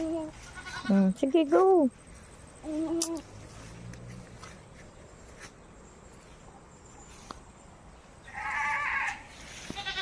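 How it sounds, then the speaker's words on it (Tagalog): A goat bleats several times in quick wavering calls near the start, with another short bleat later, over a steady background of chirping insects and occasional talk. "Goat has amazing sounds?"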